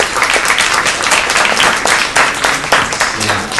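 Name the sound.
audience applause for Trish Neiman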